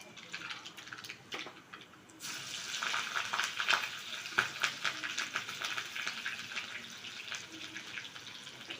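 Tomatoes dropped into a hot pan with curry leaves and green chillies sizzle and fry, a quiet start giving way to steady, close crackling with small spikes as they settle.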